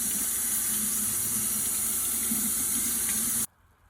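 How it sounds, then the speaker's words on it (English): Cooked udon noodles rinsed under a cold kitchen tap, a loud steady rush of running water that stops abruptly near the end. "make sure you rinse it off with some cold water"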